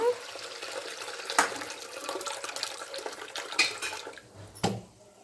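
Water poured off soaked black gram lentils (urad dal with husks) in a kitchen, a running, splashing pour lasting several seconds with a few louder splashes, heard alone.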